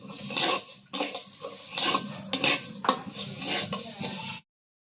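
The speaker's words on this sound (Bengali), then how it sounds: "প্রথমে অর্ধেকগুলো ভেজে নিয়েছি পরে আবার অর্ধেক দিলাম" Fish frying in a pan with a spatula stirring and scraping, occasional sharp clinks of metal against the pan, close up, ending abruptly.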